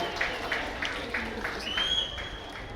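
Crowd applause at the 2026 Belau Games opening ceremony, a wide wash of clapping with a few distinct claps standing out and a high whistle-like tone rising near the end.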